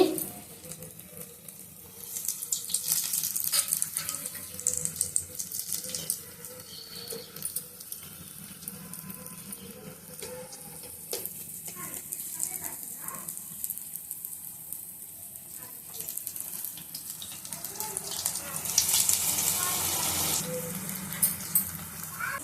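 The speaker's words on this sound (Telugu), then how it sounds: "నూనెలో వేసేస్తే మన గారె రెడీ ఇట్లా వడలన్నీ వేసుకోవాలండి" Urad dal vadas (garelu) deep-fry in hot oil with a steady bubbling hiss that swells into brighter, louder sizzling bursts near the end, with no voices.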